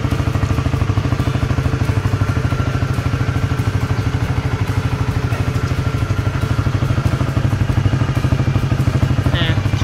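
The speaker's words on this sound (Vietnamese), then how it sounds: "đây là tiếng bô nổ ga anti." Honda Winner motorcycle fitted with a Raider exhaust and a 25 mm throttle body, otherwise stock, running with a loud, steady rapid-firing exhaust note close up, with a brief higher sound near the end.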